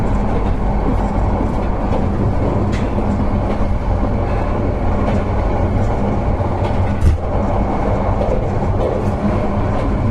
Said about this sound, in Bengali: এটি ঢাকা থেকে চট্টগ্রামগামী মহানগর প্রভাতী ট্রেনের এসি কামরা